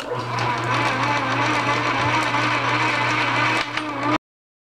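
A small lathe takes a heavy single-pass cut through plastic, producing a steady, loud machining whir with a constant motor hum and a grinding texture, running without pause for about four seconds before stopping abruptly.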